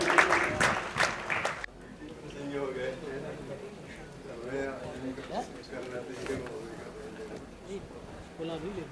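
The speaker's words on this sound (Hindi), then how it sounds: "जोरदार ताली।" Loud applause bursts from an audience at a stage event for about the first second and a half, then fades as someone speaks over a murmuring hall.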